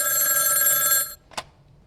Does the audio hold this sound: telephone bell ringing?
yes